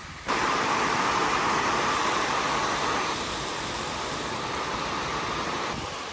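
Steady broadband roar of an Audi RS6 C8 at speed on the Autobahn in hailstorm weather, a loud, unbroken wash of road, wind and engine noise with no distinct revs or voices.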